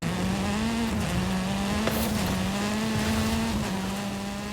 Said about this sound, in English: Nissan GTR comes flying over trying to bump me into the tree